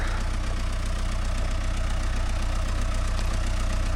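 An MTZ tractor engine running steadily during heavy winter ploughing, a loud, close diesel drone with a constant rhythmic knock and no pauses.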